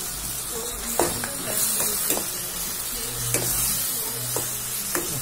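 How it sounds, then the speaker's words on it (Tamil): Masala with onion and tomato sizzles steadily in a pan for catering biryani, with repeated scraping and clanking of a spoon stirring it, close and moderately loud. "மசாலா போடாச்சு, மசாலா நல்லாச்சு, வதங்கட்டும்."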